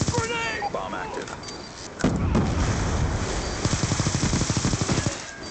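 A grenade explodes in the Black Ops 2 video game, a loud, sharp blast that bursts out amid rapid in-game gunfire, with game voice callouts heard throughout.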